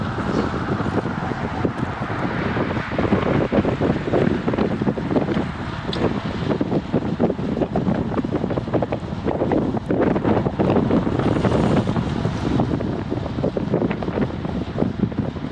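Steady wind roars and buffets against a cyclist riding in a group on the road, a loud, continuous rushing with no voices.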